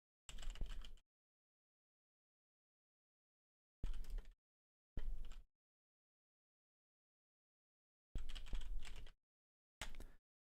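Bursts of typing on a computer keyboard, five short clattering runs of keystrokes separated by silence, close and clear with no talking.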